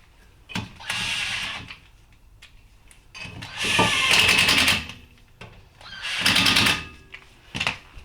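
Power driver running screws into a drag brake kit on an RSX, rotor in place: three loud whirring bursts of about a second each with short clicks between, close and without talk.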